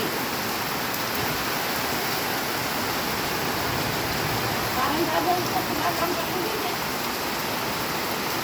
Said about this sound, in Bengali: বৃষ্টিটা পড়ছে আর টগর ফুলের গাছটা কত সুন্দর লাগছে